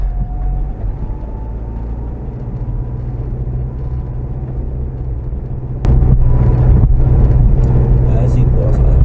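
A vehicle towing a trailer on deflated tires drives along a loose, heavy sandy road in hot conditions, a steady low engine drone that grows louder and rougher partway through, with people talking over it.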